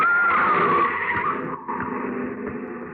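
A car skids with a long tire squeal near a pedestrian on a city street, loud and close, fading into engine rumble; a radio drama sound effect with no talk over it.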